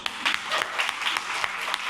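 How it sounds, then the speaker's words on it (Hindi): An audience at a college seminar on cryptocurrency applauds. The clapping is brief, close and moderately loud, with a few sharper individual claps. "तालियां."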